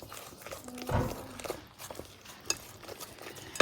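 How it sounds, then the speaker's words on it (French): A utensil stirs sautéed vegetables in olive oil in a pan, making soft scraping and light clinks with a few brief knocks, close and fairly quiet. "je vais touiller pour bien mélanger le tout"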